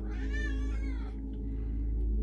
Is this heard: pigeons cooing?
no